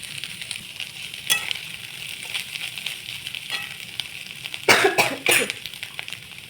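Egg and vegetable bhujia is stirred in a hot frying pan, giving a steady, moderate sizzle with a couple of sharp coughs near the end.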